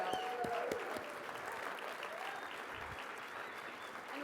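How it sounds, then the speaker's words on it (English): An audience applauds storytellers in a sustained round of clapping that stays dense and even, with a few louder claps and a brief voice early on, then settles into steady applause. "give them a big round of applause"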